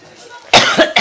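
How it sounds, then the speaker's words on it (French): A person gives two or three quick, harsh coughs in a row, loud and close after a brief quiet moment. "Bon, je tousse encore un peu."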